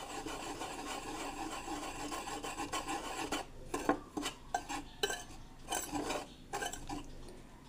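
Dry pancake ingredients, including baking powder, yeast, salt and white sugar, are mixed for an ube pancake: a steady gritty rasp of stirring, then separate scraping strokes against the bowl.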